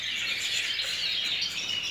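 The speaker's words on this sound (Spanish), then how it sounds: "Mirad qué pajarito este." A small pet bird chirps during its molt, a continuous bright twittering chatter that stays steady and fairly loud for the whole short stretch, with no talking over it.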